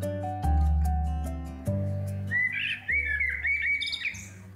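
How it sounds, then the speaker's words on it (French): Birds sing in spring with bright chirps and quick warbling phrases over a low sustained musical bed, clear and fairly close, with no talking. "Les oiseaux qui chantent."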